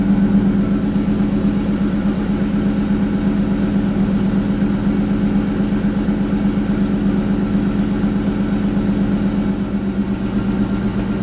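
A Mustang Bullitt V8 engine with a JBA H-pipe and stock mufflers idles steadily at close range, a low even rumble that holds constant without revving.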